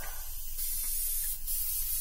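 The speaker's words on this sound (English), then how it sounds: "I'm going to clean up this airbrush real quick. Some Garage Kit's cleaner here." An airbrush sprays Garage Kit's cleaner in a steady, close hiss with two brief surges, with no talking.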